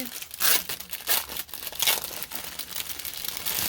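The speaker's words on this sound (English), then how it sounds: "your beads in a plastic bag" A plastic bag holding diamond painting beads crinkling in irregular bursts, close and fairly loud, with crisp rustles rising and falling throughout.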